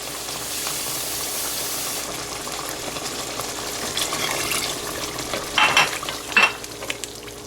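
Water poured into a pot of simmering goat curry, a continuous bubbling sizzle with a few louder splashy bursts near the end as liquid hits the hot sauce.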